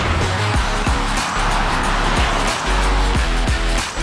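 A 72V EnviroRides F1+PRO electric scooter motor whines loudly as it accelerates with wheel spin, its pitch repeatedly sweeping upward in short surges, with a rough, noisy roar throughout and no voices.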